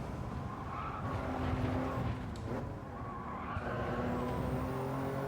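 A Toyota Yaris slides across a track in a racing video game, its tires squealing and skidding over a steady engine drone, loud and continuous for several seconds.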